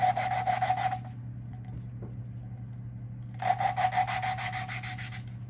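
A Honda CB360T engine valve is lapped against its seat, producing two bursts of fast, rhythmic gritty rasping separated by a quiet pause, close and fairly loud over a steady low background hum.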